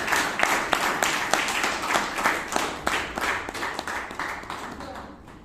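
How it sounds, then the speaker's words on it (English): A small audience at a Toastmasters meeting in Bangalore claps in a round of applause, with distinct individual hand claps rising through a smattering and fading out over five seconds. "Please, huge round of applause."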